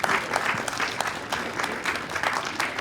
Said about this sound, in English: applaud for yourselves.